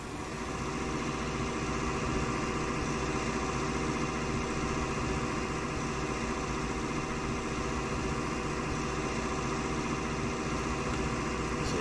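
A tractor engine in Farming Simulator 19 drones steadily at a constant pitch, a continuous mechanical hum with no pauses and no voices.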